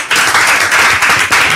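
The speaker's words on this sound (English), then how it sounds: "Now they will clap for me." Audience applause at a political party event where members and a presidential candidate are being introduced at the podium, a dense, steady burst of many hands clapping from start to finish, loud and close.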